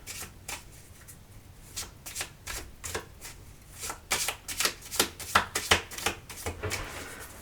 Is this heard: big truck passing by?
no